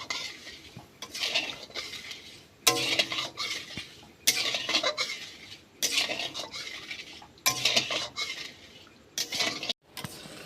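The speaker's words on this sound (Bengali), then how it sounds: "এইবার খুন্তি করে এইভাবে নাড়তে থাকবো।" A spatula stirs boiling sugar syrup with a cracked cardamom pod in a metal pan, the scraping and clinking strokes coming in repeated bursts with short pauses between them.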